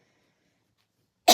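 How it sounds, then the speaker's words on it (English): A single short cough bursts out after a long silence, close and sharp, at the very end of an otherwise quiet moment. "Yeah, 'cause I haven't coughed all day."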